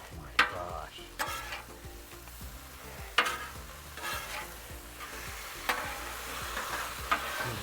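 Chicken lo mein noodles sizzle and crackle steadily on a hot Pit Boss griddle as sauce goes in, with sharp scraping and stirring clatters of a metal spatula at irregular intervals, close by.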